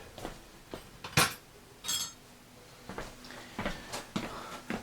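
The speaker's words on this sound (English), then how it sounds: "I'm going to beat these eggs like they owe me money." Eggs and half and half being beaten by hand in a bowl without a whisk, heard as irregular sharp clinks and taps of a utensil against the bowl. The strokes are spaced and uneven, close by, with no talking.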